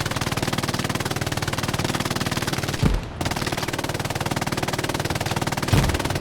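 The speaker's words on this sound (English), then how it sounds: "Nano just going off with that MG." Sustained machine gun fire from an MG rattles in a rapid, steady stream during a competitive 18v18 online shooter match, with one brief pause in the middle.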